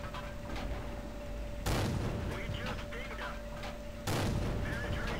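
World of Tanks cannon fire: two heavy booming tank shots a few seconds apart, punching through a constant droning engine and battle background, fairly distant and muffled.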